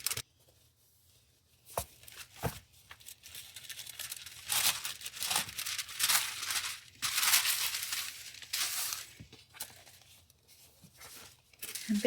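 Acid-free tissue paper is handled for book rebinding: soft rustling, crinkling and tearing bursts come and go irregularly, close and fairly quiet, with brief pauses between.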